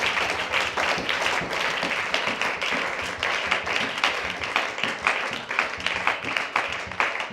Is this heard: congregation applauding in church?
yes